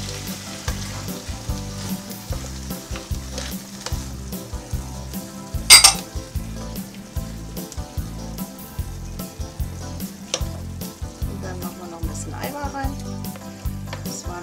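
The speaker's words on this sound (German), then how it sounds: "Und jetzt mache ich den Gemüsepot drüber, das sind 200 Milliliter" Vegetable stock, 200 ml, poured into a hot pan for a layered turkey roast, met by a loud, steady sizzle with a brief sharp hiss burst midway and occasional utensil clinks, close up.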